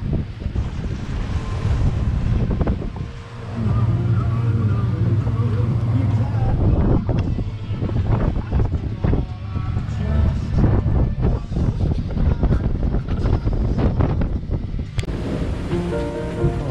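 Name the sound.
strong wind on a sailboat at sea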